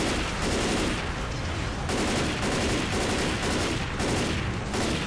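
Continuous loud, dense gunfire in Left 4 Dead 2's The Passing campaign, with rapid overlapping shots forming a steady barrage that runs throughout with small bursts at regular intervals.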